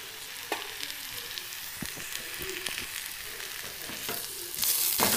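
Spices sizzling and frying in a pan for paneer curry on a low flame, with a steady close hiss, soft crackles and occasional stirring scrapes, rising a little louder near the end.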